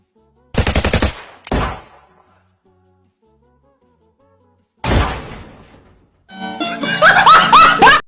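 Gunfire in the mobile video game Free Fire comes as a short automatic burst and a single shot, a later burst after a pause, then laughter and chatter near the end.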